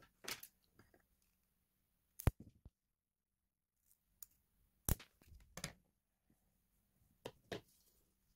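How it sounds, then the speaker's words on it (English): Battery cables for a 3S Li-Ion pack of 18650 cells being cut to the same length, a few sharp, quiet snips and clicks spaced apart in a silent room. "cut both cables if necessary to the same length"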